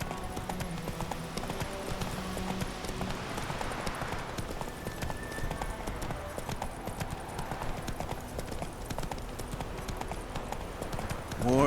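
Roach, the horse in The Witcher 3: The Wild Hunt, clip-clops steadily at a walk on a road, a continuous rhythmic hoofbeat beneath faint ambient wind and game background sound.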